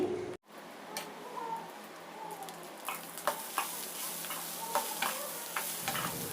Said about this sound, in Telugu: ఇంకా ఇవన్నీ కలిసేలా కలుపుకొని ఒక ఫైవ్ మినిట్స్ హై ఫ్లేమ్లో ఫ్రై చేసుకోవాలి